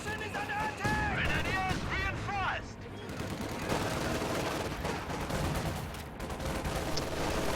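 In a World War II strategy game match, an MG42 machine gun fires in rapid bursts, mixed with other gunfire, explosions and distant artillery in a loud continuous battle din.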